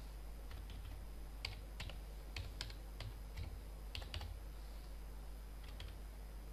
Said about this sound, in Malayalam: പാസ്വേഡ് കൊടുത്തിരിക്കുന്ന സെയിം പാസ്വേഡ് നമുക്ക് ഒന്നുകൂടി ഈ കോളത്തിൽ ടൈപ്പ് ചെയ്ത് കൊടുക്കാം